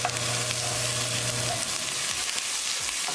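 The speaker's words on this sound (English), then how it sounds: "And we're going to cook tadka really well. So keep it moving and keep cooking." Onion tadka fries in a pan for a chickpea chicken curry, a steady close sizzle with spoon scrapes as it keeps being stirred, with no voices.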